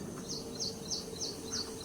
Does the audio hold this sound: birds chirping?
yes